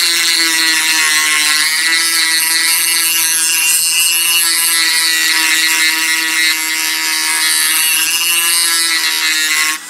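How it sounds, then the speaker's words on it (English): A Dremel 8220 cordless rotary tool grinds against a knife blade to sharpen it, a loud, close, high-pitched whine and rasp that runs steadily for the whole stretch before cutting off at the end. "And I'm going to use it on my knife here. So increase the speed a little bit."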